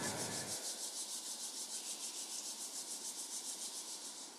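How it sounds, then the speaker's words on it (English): Hands rubbed briskly together during a seated T'ai Chi class, a steady close rhythmic swishing friction that continues evenly without any talking. "Now, rubbing your hands together"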